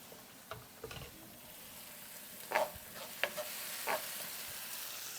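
About a tablespoon of finely minced garlic frying in a pan, quiet steady sizzle broken by several scraping stirs and light taps of a utensil against the pan.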